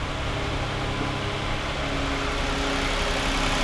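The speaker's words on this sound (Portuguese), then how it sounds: "o Sorento já ligou" A Kia Sorento idles in a workshop just after being started, a steady even engine hum with low rumble held throughout, close and fairly loud with no talk.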